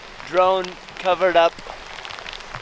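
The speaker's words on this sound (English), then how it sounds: "This is like big chunks of hail now." Big chunks of hail fall on a rain fly in cold, snowy weather, a faint crackling patter beneath a person talking, which becomes more audible once the talk stops.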